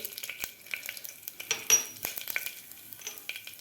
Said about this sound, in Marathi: तेल आपल्याला व्यवस्थित गरम करून घ्यायचं आहे गरम झालेलं आहे त्यामध्ये घालायचे आपल्याला जिरे